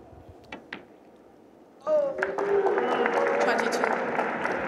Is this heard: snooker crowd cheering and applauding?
yes